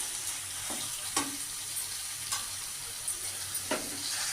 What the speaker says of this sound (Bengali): এবার মশলার সাথে চিকেন পেস্টটা একটু কষিয়ে নেব